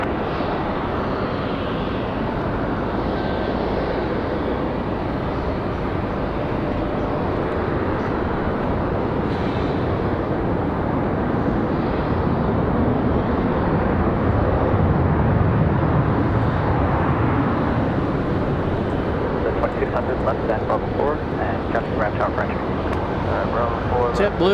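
A JetBlue Airbus A220-300 readies for departure at Raleigh-Durham, its jet engines a continuous broad roar that swells slightly midway, while a voice talks over it.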